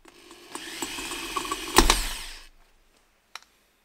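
Hammer drill in hammer mode boring into the cylinder head of a Mazda MX5, a close, gritty rattling whir for about two seconds with a sharp crack near the end, then near silence and one faint knock.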